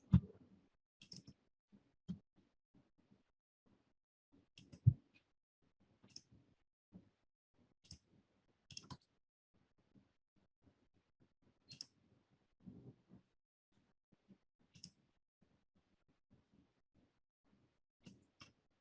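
A computer mouse clicks in sparse, irregular single and double taps, quiet and close, with near-silence between the clicks.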